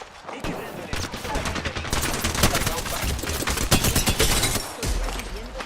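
Video game gunfire, dense rapid bursts of automatic shots and single cracks packed tightly together, loud and close, with faint voices mixed in.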